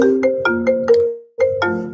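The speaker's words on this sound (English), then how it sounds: "I'm sorry that my phone is ringing." A mobile phone ringtone plays a repeating melodic chime pattern, several bright tones in quick succession, a brief pause, then the pattern starting again, loud and close with no voices.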